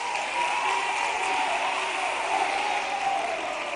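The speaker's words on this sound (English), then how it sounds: "I thought we were going to clap to that." Steady applause from a pageant audience at a beauty contest grand finale, a dense continuous wash of clapping with faint crowd murmur underneath, sustained at even loudness throughout.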